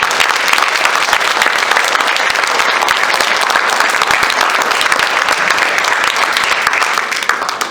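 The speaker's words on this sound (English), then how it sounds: "How about a round of applause for all of our candidates here?" An audience claps for the candidates at a community candidate forum, a dense, steady round of applause that continues throughout and fades slightly at the end.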